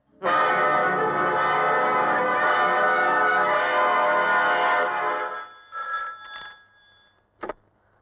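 A telephone in a 1990s Hindi romantic film scene rings loudly and steadily for about five seconds, then falls silent, followed by a couple of brief, fainter clicks and rattles as if the receiver is picked up.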